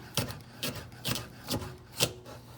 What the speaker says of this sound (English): you want to hold all the vegetable tightly together, and we're gonna chop